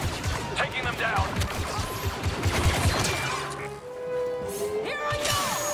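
Star Wars Battlefront 2 gameplay brings rapid blaster gunfire and crashing impacts in a dense, busy mix, with voices talking over the fighting.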